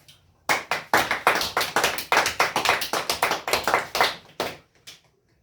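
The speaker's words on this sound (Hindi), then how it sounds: "बढ़िया सर सब पे ताली बजनी चाहिए, आदित्य भी था।" A classroom audience after a group debate in a 12th-grade physics class breaks into applause: a burst of close, dense clapping that holds steady for several seconds and then trails off into a few last claps.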